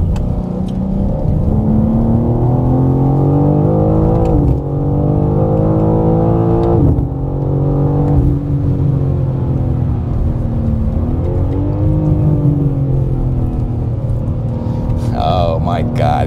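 A 2025 BMW M4 CS on a race track, its engine roaring loudly as it accelerates through rising and falling revs with gear changes, heard from inside the cabin while someone talks over it.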